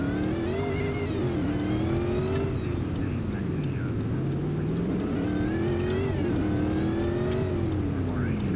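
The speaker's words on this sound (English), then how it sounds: "You hear my engine?" A car engine revs continuously, its pitch rising and falling as it accelerates and eases off, loud and steady throughout.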